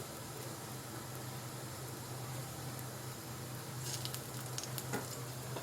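Thalipeeth frying in a little oil on a pan gives a steady, close sizzle throughout, with a few sharper crackles and spits toward the end.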